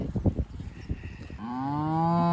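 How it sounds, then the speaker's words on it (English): Close, loud moo from a heifer calf swells into a long, rising, tonal bellow after some low shuffling and grunting noises from the herd. "I've just moved this bunch of autumn calfers, heifer calves."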